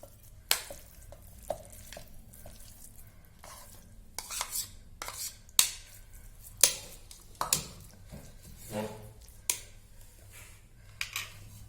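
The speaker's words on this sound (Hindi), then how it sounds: "कीमा मिलाएंगे" Ground mutton keema is stirred in a pan with a spoon, giving repeated scraping knocks and clinks at an uneven rhythm over a soft frying hiss, with no talking.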